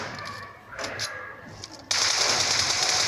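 M4 rifle fitted with a 6x scope firing in a battle-royale shooter game, heard as rapid bursts of gunfire that turn into a dense, loud sustained stream near the end.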